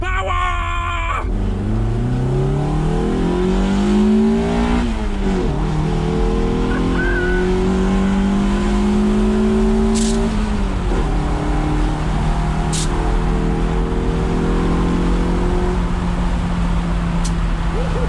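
Toyota MR2 fitted with an induction kit built from scrap parts, accelerating hard through the gears on a road, its engine note rising in long sweeps with intake roar, loud and close, with brief dips at each gear change.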